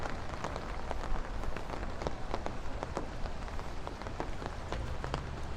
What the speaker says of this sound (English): pretty much all of this moisture and this rain is from that storm